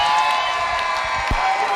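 A crowd cheers and whoops steadily at the 2018 Australian National Skydiving Championships, greeting the new Australian record holders with a sustained wash of cheering and a few shouts.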